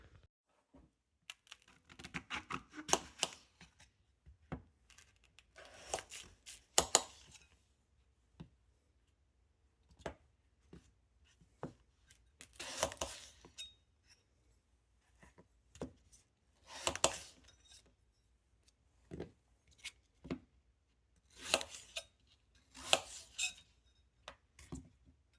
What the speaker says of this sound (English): I'm just going to cut an apple and see how it does.